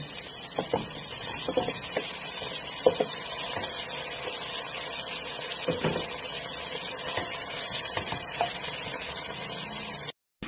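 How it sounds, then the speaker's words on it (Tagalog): Chicken breast and sliced pork siomai sautéing in a pan, a steady close hiss of sizzling oil with faint scattered clinks of stirring, cut off abruptly at the end. "Gisa-gisa ko lang."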